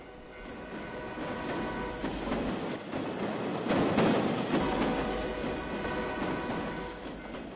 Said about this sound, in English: That's the train. I feel like that train's going way too fast for a residential area.